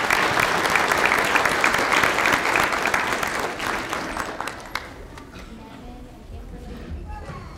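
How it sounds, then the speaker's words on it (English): A school audience applauds dancers at a fifth-grade elementary Christmas show, a dense, loud burst of clapping that slowly thins and fades toward the end. "give those dancers another round of applause"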